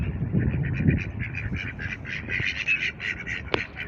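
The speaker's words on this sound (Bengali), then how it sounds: "হাঁসগুলো খুব খেলা করতেছে আমার সাথে" Ducks quack repeatedly at close range near a waterfall pool at Wadi Namar in Saudi Arabia, in a busy run of nasal calls with one sharp click near the end.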